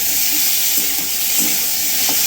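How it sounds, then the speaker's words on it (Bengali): Food fries lightly in a pan for fried rice with chilli chicken: a steady, fairly loud sizzling hiss with faint stirring bumps underneath and no talking. "হালকা ভেজে নেব"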